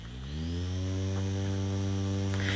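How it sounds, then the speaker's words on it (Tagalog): Electric fan running close by, a steady droning hum with strong tonal buzz, constant and unbroken with no voices. "meron akong binili electric fan"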